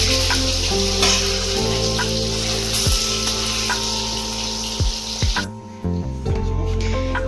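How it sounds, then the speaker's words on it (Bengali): Chitol fish muitha dumplings, a traditional Bengali fish dumpling, sizzle steadily in hot oil, a continuous loud frying hiss with scattered pops and brief clinks near the end, with no voices. "ঠিক এরকম করে ভেজে নিতে হবে"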